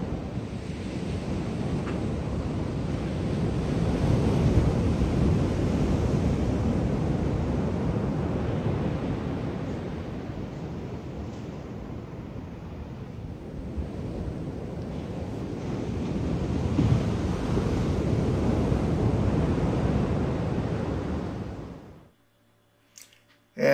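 Pacific Ocean surf rolls onto a beach with steady roaring wash and gusting wind buffeting the microphone, loud and close, swelling and easing before cutting out near the end.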